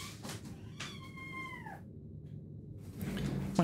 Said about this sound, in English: My cat just got her paw stuck in the door hinge, and she was screaming at me.